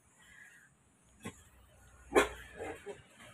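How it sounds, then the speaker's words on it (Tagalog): Dogs at a pigeon loft visit give a few short barks, a faint one and then a louder, nearer one, with quieter rustling and murmurs around them. "Ang ganda ng mga aso."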